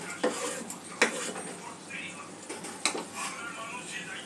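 Kantola poppy seed curry with green mango being stirred in a pan, a spatula giving a few sharp scrapes and knocks against the metal over a soft, continuous sizzle.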